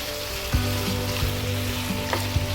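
Mutton pieces frying with garlic in a pan for rogan josh, a steady close sizzle with a few sharp knocks of stirring scattered through, no voices.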